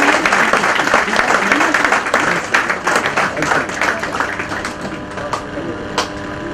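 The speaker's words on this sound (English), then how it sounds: "Can we have a round of applause for them?" A hall audience claps for two senior lawyers at a bar association felicitation function, a dense, steady round of applause that stays loud before thinning slightly toward the end.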